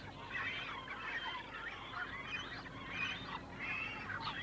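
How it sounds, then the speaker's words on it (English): A shag colony on the Mewstone, a seabird sanctuary island, keeps up a steady chorus of harsh overlapping calls. The grunts and croaks run continuously at a moderate distance with no pauses. "now of national importance for one bird in particular, the shag"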